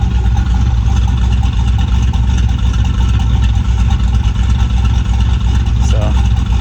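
Turbocharged Chevrolet Avalanche engine at 14 pounds of boost, a deep, throaty, bass-heavy running rumble, steady and loud at close range.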